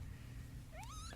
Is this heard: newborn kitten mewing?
yes